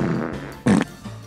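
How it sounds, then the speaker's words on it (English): A cartoon Spider-Man character lets out one short, loud, rough burp, a blast of about a fifth of a second that stands out above quieter background sounds. "I gonna burp!"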